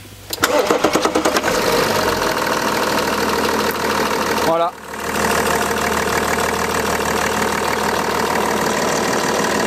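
A used BMW 640d engine cranks with rapid stuttering bursts, catches and settles into a loud, steady idle that briefly dips before resuming, with a short spoken word over it.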